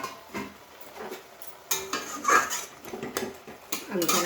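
A metal lid is set and shifted on a pot of chickpea greens with potatoes, giving several light clinks and scrapes of metal on metal in a quiet kitchen.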